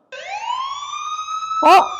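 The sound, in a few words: fire truck siren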